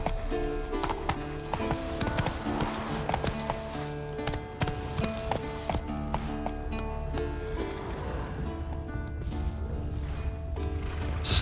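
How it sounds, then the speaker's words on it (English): Roach the horse gallops in The Witcher 3, a continuous run of hoofbeat clip-clop under game music, steady and fairly loud throughout. "Run, Roach."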